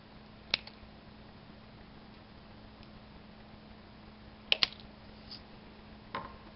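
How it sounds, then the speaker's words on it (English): Wire cutters snipping the excess lead off an LED, a few small sharp clicks spread out over quiet background hum. "So first we'll cut off some of the excess."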